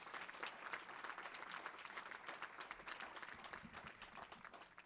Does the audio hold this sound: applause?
yes